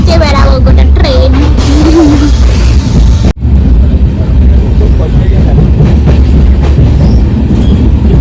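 A passenger train runs loudly on its rails, with steady clickety-clack and rumble throughout, high wheel squeals and whistling tones early on, then a sharp break before a continuous rolling drone.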